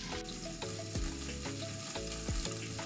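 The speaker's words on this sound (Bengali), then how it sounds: "কিছুক্ষণ ঢাকা দিয়ে একটু ভেজে নেব।" Sliced onions fry in a covered pan with a steady close sizzle, and a few dull knocks or thumps from the lid or utensil come through at intervals.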